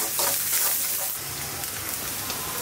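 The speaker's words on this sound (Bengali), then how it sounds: "তেলের উপরে পেঁয়াজ আর কাঁচামরিচ ভাজতেছি।" Onions and green chilies frying in oil in a pan, a dense crackling sizzle like rain on a surface, steady and moderately loud throughout.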